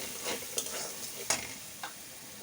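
Red meat curry being stirred and fried in a pan gives a soft steady sizzle, with three or four sharper scraping strokes of the spoon, close and quiet, with no talk.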